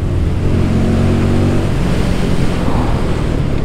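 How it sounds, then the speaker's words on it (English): Heavy wind roar buffets the rider of a Royal Enfield Guerrilla 450 motorcycle at speed, a loud, dense, unbroken rush with a low engine drone beneath it. "the faster I go the worse the wind noise is"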